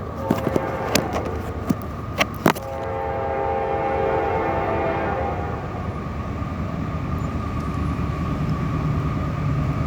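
A CSX freight train passes as a few sharp clanks and horn-like tones give way to a steady loud rolling rumble of railcars, close and continuous.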